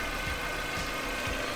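A car engine idles steadily in an open engine bay after an NA to NB motor conversion, a continuous smooth hum running close and even throughout with no talk.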